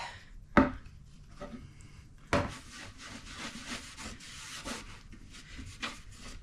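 Cotton rag rubbing finishing wax onto the bottom of a wooden crosscut sled, a close repeated scuffing and rubbing with two sharp knocks near the start, no speech.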